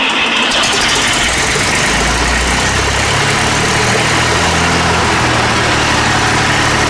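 Fordson Dexter tractor engine running: a loud, steady, close diesel drone with a deep low rumble that holds throughout and cuts off at the end.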